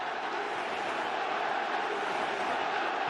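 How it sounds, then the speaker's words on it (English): A large football stadium crowd at a Barcelona versus Juventus match roars in a steady, dense wash of cheering and chanting that holds loud and unbroken throughout. "Listen to this crowd."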